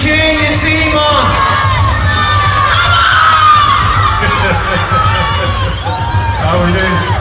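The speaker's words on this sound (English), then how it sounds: "Keep cheering your team on!" A crowd of children cheers and shouts for their robotics team at a FIRST LEGO League national final, a loud, continuous roar of overlapping high voices with whoops rising and falling throughout.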